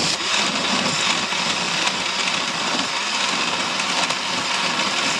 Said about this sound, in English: if you've got a Vitamix blender, you can make things very smooth